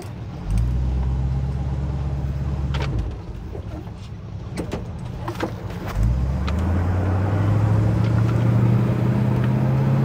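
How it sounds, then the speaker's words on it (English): A 1978 Chevrolet K20 Scottsdale truck driving on the road, its engine droning low and steady, easing off briefly and then building again, with rumble and occasional rattles and no talk. "Truck drives really well down the road."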